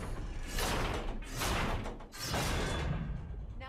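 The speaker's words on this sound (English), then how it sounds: "Start by lifting that axle. Good. Now push it back into place." Stone-and-wood mechanism in the video game God of War as an axle is heaved back into place: a loud grinding, creaking rumble in two long surges with a short pause between, no voices over it.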